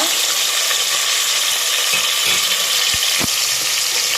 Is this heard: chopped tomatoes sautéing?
yes